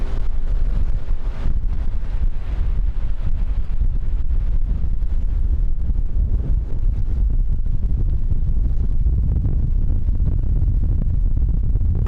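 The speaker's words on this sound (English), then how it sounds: "We're gusting about 25, 27, 28, 29 knots of wind." Strong, gusting wind roars continuously aboard a sailing catamaran in a squall, buffeting the microphone with heavy low rumble and no speech.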